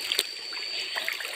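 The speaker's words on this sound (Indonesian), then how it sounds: "Kita nyebrang sungai." River water flowing and trickling while people cross a forest river barefoot, soft light splashes and bubbling at low level with no talking.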